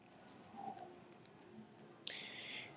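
A single sharp mouse click on an Activate button lands late, followed by a brief soft hiss, with faint quiet clicking and room noise before it.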